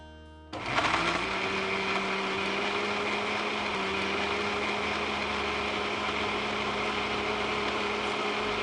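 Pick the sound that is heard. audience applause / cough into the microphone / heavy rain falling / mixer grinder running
mixer grinder running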